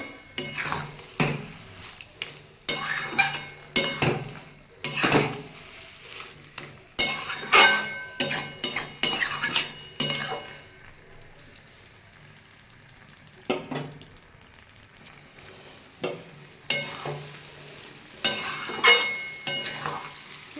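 A spatula repeatedly scrapes and stirs cauliflower and potato with poppy seed paste in a wok, with clanks against the pan over a soft sizzle of frying, close and in irregular bursts with brief quieter pauses.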